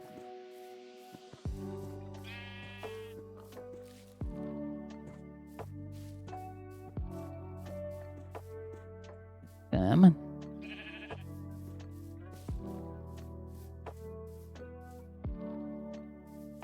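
Two short Minecraft sheep bleats sound amid game music and sound effects, while a person talks throughout.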